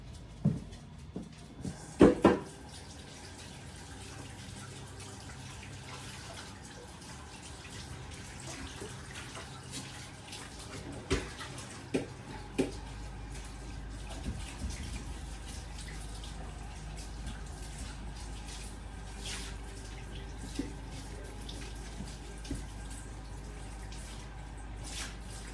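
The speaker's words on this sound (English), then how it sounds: "I'm gonna wash my hands real quick, guys." Tap water runs steadily into a sink during hand washing, a constant close rush with some clinks and knocks early on, and the flow deepens partway through.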